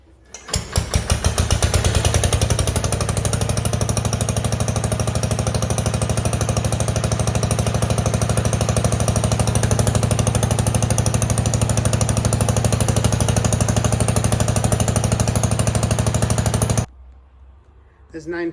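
A Wheel Horse garden tractor engine starts on a pull and runs with a loud, rapid, steady thumping chug that continues evenly before cutting off abruptly near the end.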